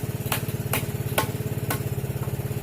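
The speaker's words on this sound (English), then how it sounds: "The engine's warmed up, so the exhaust is warm." A warmed-up small engine on a homemade thumper-style launcher runs steadily nearby, a fast even putter with a few sharp clicks or taps on top.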